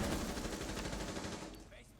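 Rapid automatic gunfire in the Rainbow Six Siege video game, a dense, steady burst of fast shots that fills the whole stretch and eases slightly toward the end, with voices underneath.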